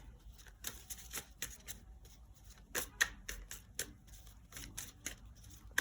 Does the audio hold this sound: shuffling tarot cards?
yes